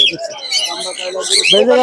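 Pigeons and other caged birds chirp and call loudly at a busy bird market in Mirpur, Dhaka, during rain, with voices of traders speaking over the bird sounds.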